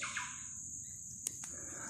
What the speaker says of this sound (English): That's a lovely bird there.